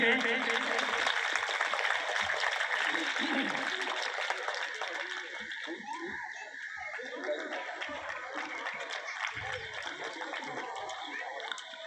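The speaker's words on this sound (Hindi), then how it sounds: "इस्तकबाल करें तालियों से।" Audience applause at a National Education Day gathering in Garulia, welcoming a guest to the dais: a dense, steady wash of clapping from a crowd that stays loud throughout and eases slightly toward the end, with voices mixed in.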